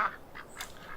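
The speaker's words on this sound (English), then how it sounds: "I keep hearing these ducks, but I don't know where they are." Ducks quack faintly in Farming Simulator 17 on the PV Rivers Reloaded map, a few short calls in the distance against a soft ambient background.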